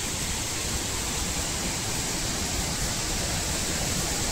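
Steady, dense rush of a waterfall in Tansa Wildlife Sanctuary near Shahapur, a continuous broadband roar holding even and loud throughout with no voices.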